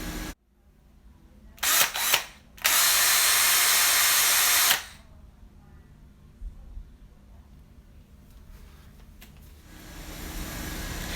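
A neighbor's pressure washer hisses in a loud burst for about two seconds, with faint mechanical clatter and a low hum continuing in the background.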